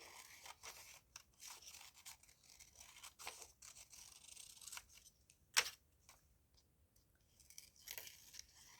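Scissors snip a loose trim around paper ephemera cut from business forms, producing soft, scattered crisp cuts and paper rustles at close range, with one sharper snip standing out partway through.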